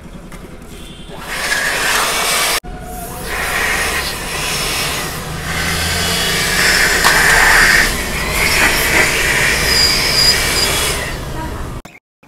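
Loud bursts of compressed air blow in a rushing hiss while cleaning a vehicle, stopping briefly partway, with mechanical noise and some talk underneath.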